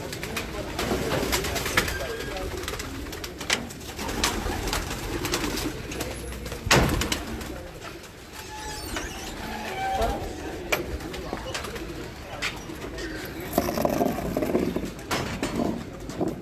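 Pigeons coo repeatedly from nearby at a loft, with soft overlapping calls and wing flutters, while people talk throughout.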